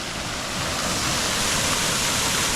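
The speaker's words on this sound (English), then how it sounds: "Really big water fountain here in Plovdiv, and I can feel the particles spraying on my face" A large water fountain in Plovdiv sprays continuously, a loud, dense hiss of falling and splashing water heard close up with no break.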